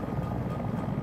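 Helicopter in the video game Battlefield 2042, a steady near rotor-and-engine drone that holds at an even loudness throughout.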